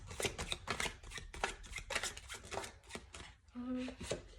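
Tarot cards being shuffled by hand in quick, crisp riffling bursts, close and fairly quiet, with brief pauses between handfuls.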